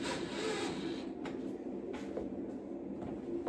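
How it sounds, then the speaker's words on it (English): A screw being driven into the top front track of a soundproof window frame during installation of an operable picture window over a slider, heard as a steady, close grinding whir lasting a few seconds. "I'm going to put a screw in the top on the front track"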